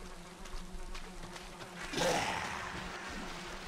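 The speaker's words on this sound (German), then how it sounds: "Hier scheinen noch Bienen zu sein." A low insect drone of bees buzzing in the Valheim video game, rising to a louder swell near the end over faint background noise, with no talk.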